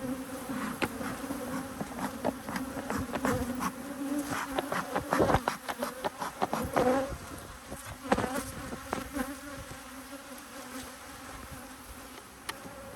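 Honey bees buzz around an opened hive being split with queen excluders, a dense close droning hum with individual bees zipping loudly past, peaking midway and easing off.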